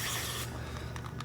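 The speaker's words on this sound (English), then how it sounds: "Hold on. Axe spray." Axe body spray hisses from an aerosol can in a short, close, steady burst, followed by a few quick faint rubbing sounds.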